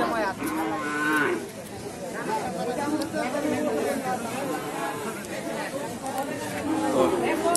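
Sahiwal cattle low and moo amid the bustle of the Naogaon Satihat cattle market, the drawn-out calls rising over a steady crowd murmur while people chatter nearby.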